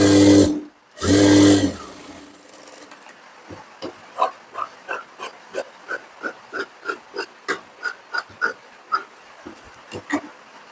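Sewing machine stitching a katori blouse, giving a run of evenly spaced mechanical clicks and thumps, close and alone, after a loud low rumbling start.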